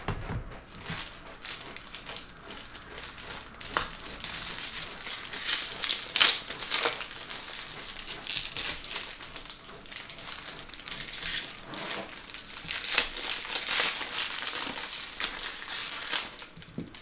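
Foil wrapper of a 2022 Topps Pristine baseball card pack torn open with continuous crinkling and crushing, a steady close rustle with brief louder rips, no voices.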